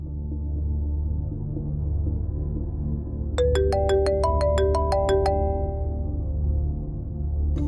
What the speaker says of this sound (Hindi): किसका फोन था?